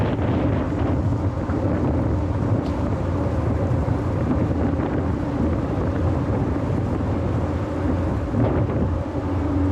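A boat crosses the Padma River in heavy rain, with a steady, loud rumble of engine, water and wind noise that carries on without a break.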